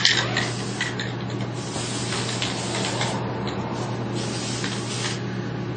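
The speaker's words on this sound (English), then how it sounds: "I'm going to coat with the UV stable outer coating" A UV-stable outer coating sprayed over a pinhole repair, a steady close hiss with brief pulsing bursts and a low constant hum beneath, no talk.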